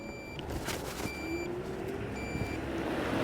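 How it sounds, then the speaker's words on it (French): An electric scooter's turn signal beeps in a regular high-pitched pattern, short repeated tones over faint road and motor noise. "J'ai mis mon clignotant."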